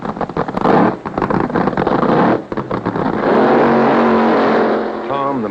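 Loud drag racing cars roar and rev close by on a drag strip after rain, with bursts of acceleration and a steady howl, a voice talking over the noise.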